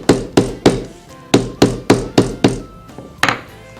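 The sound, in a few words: mallet pounding leather lace flat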